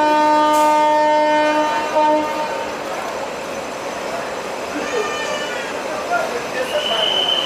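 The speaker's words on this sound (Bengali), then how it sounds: "ট্রেনটা ছেড়ে দিল এই পুরী থেকে" A train horn sounds a long, sustained blast, then the rolling rumble of the 12838 Puri–Howrah Superfast Express departing Puri station continues with faint squeals from the rails.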